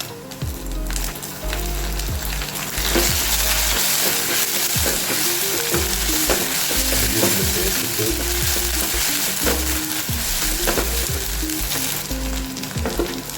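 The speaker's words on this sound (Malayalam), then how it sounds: "അതിലേക്ക് നമുക്ക് ശകലം ഇഞ്ചി വെളുത്തുള്ളി പേസ്റ്റ്" Ginger garlic paste fries in a pan with coconut and onion, a loud steady sizzle close by, broken by spoon scrapes and taps as it is stirred.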